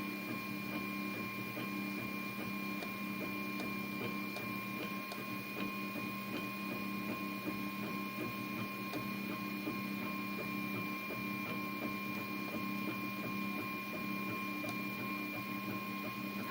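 A 3D printer prints a nut for a new filament holder, giving off a steady mechanical hum with fine ticking motor steps and a constant whine, close and even throughout with no talking.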